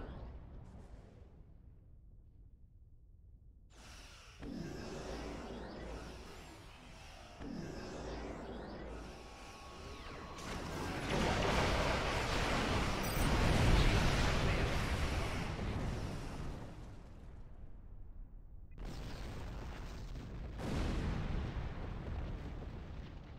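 Torpedoes firing during a space battle in the game Star Trek Online, with heavy booming blasts and rolling rumbling explosions that build in intensity, fade briefly, then return with a sharp burst near the end.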